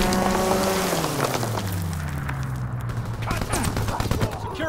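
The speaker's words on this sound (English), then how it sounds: "Call for a strafing run" Fighter aircraft strafing run in the game Call of Duty WWII on a domination match: a descending engine drone blended with rapid, crackling bursts of gunfire and scattered impacts, loud and busy throughout.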